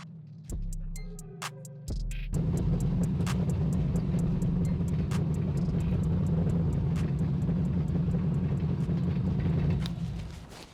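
A car engine revs up and drones loudly and steadily, a deep rumbling roar close by that holds for several seconds before easing off.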